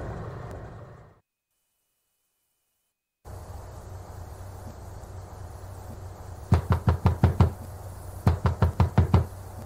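Loud knocking on a door comes in two bursts of about six quick raps each, over a steady room hum, with a silent gap earlier.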